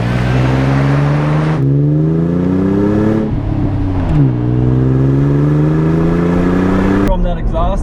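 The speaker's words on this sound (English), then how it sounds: "higher up in the RPM range, the supercharger kind of takes over with the whine" A supercharged 2007 Toyota FJ Cruiser engine revs up and down repeatedly with a deep exhaust rumble and rising supercharger whine at higher RPM, loud and close throughout.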